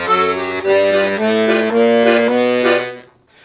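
Piano accordion plays both hands together through the last two measures of a modified blues turnaround, sustained reedy chords with a steady bass underneath, close and alone.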